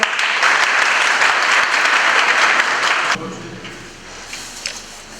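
Crowd applause inviting a candidate to the stage to announce a run for Tekirdağ metropolitan mayor, dense and loud for about three seconds, then cut off into quieter room sound with faint voices.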